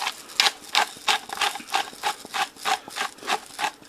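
A manual pepper grinder is twisted over a pot of cheddar bacon potato soup, making about ten evenly spaced crunchy grinding bursts in a steady rhythm, close and loud with no talking.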